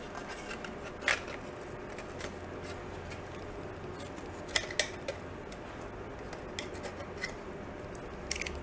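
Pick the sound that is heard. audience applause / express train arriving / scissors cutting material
scissors cutting material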